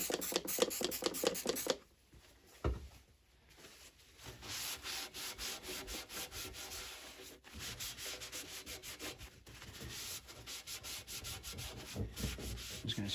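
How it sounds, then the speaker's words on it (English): A 1977 Chevy Camaro window roller part scrubbed clean by hand, with rapid close rasping strokes in bursts, a short pause early on, then a steady rhythmic scrubbing with no talk. "I'm just going to scrub this down."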